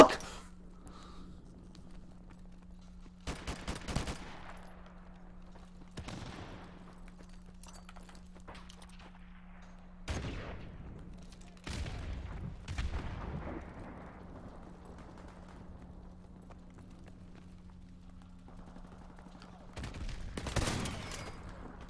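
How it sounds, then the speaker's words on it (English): Gunfire in a shooter video game comes as scattered sharp bursts and explosions over a low steady hum, some loud and near, others fainter, with quiet gaps between them. "I shoot and bang, all the fire and shit comes out."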